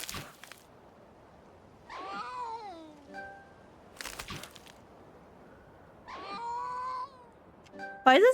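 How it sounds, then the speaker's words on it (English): A frightened cat meows in the video game A Space for the Unbound, two drawn-out wavering cries like a baby wailing, separated by quiet stretches with brief game clatter and chimes. "Why does it sound like a baby crying?"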